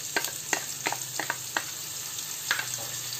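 Green chili and grated ginger sizzle steadily in hot oil with a pinch of asafoetida, close and loud, while a spoon stirs them with several sharp scraping knocks against the pan.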